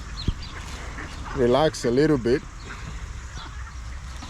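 Ducks being fed by a pond in New Zealand give a short burst of loud, harmonic quacking calls lasting about a second, close by, with someone talking before and after.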